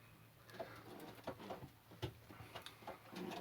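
Pigeons in a loft cooing softly and repeatedly in short, close calls, with small rustles and knocks between them in a quiet room.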